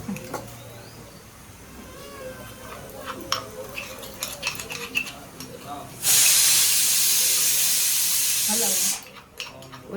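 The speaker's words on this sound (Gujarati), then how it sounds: "આ રીંગણા બટેટાનું શાક વઘારું છે." Eggplant and potato curry being tempered in a pan: a spoon stirs and clinks against the pan, then a loud, sudden burst of hissing sizzle lasts about three seconds before cutting off.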